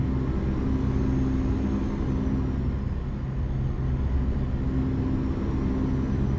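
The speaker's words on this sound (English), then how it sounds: "I running the Super Cat in this thing, and it's loud." A MAN truck with a Super Cat engine in American Truck Simulator runs with a loud, continuous low rumble and faint whine at steady cruising speed, close and alone with no talking.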